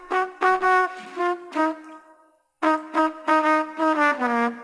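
Trumpet sample transposed down a semitone and played with no effects: a dry, clear brass phrase of several short articulated notes, one held tone, a brief gap, then more quick notes.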